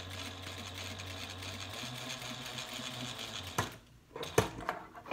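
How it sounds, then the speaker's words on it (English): A servo-motor sewing machine stitches a quilted handbag exterior panel, running in a close, steady whir for a few seconds before stopping with a couple of sharp mechanical clicks. "I'm just going to keep sewing this."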